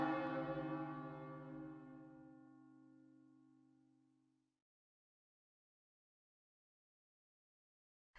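Single bell struck once in the video game Another Code, a clear resonant tone with rich overtones that decays slowly over about four seconds into silence.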